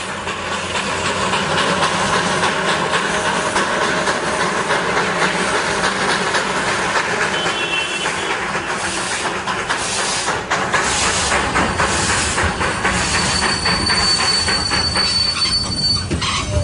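B-class steam locomotive on the Darjeeling Himalayan Railway, its wheels squealing and train rumbling loud and close throughout, with steady hiss of steam and a thin high whine toward the end.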